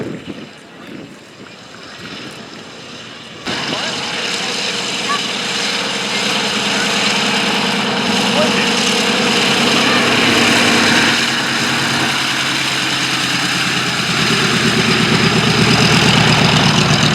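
A military jet engine roars at the Duxford Battle of Britain airshow, building from quieter wind-buffeted sound into a loud, steady, sustained drone that grows stronger toward the end.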